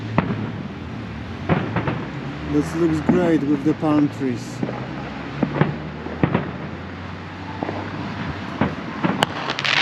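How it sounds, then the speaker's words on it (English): Sharp pops and bangs of Fourth of July fireworks scattered through the clip, some close and some distant, with people talking and wind buffeting the microphone, in Salinas, California. "There is a lot of fireworks around,"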